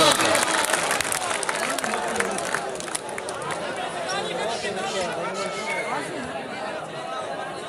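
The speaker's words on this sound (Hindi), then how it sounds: "तालियां तो जोरदार तालियां।" Applause and chatter from a large crowd at Khan Stadium in Shahwala, Bhakkar, during an Eid al-Adha match between Bulha Niazi and Waseem Sheikh. The clapping is dense and continuous, mixed with cheering and hubbub under a voice over a loudspeaker.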